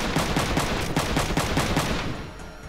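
Rapid automatic gunfire in the PlayStation game Front Mission 3, a loud, evenly spaced burst of shots fired at point-blank range against a mech, continuing for a couple of seconds without talk.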